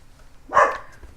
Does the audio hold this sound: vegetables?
no